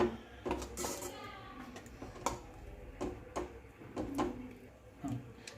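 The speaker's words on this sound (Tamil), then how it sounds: "சேர்த்துட்டு நல்லா கிண்டி விட்டுக்கலாம்." A spoon stirs lentil and spinach kadayal with sambar in a pot, giving soft irregular clinks and scrapes against the metal at a slow pace, close and fairly quiet.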